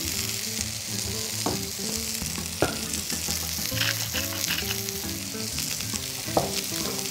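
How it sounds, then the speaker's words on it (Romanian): Broccoli florets frying in melted butter in a pan, a continuous close sizzle with stirring and occasional sharp knocks of the utensil, no talk. "am să topesc puțin unt în tigaie și am să trag în unt aceste florete de brocoli"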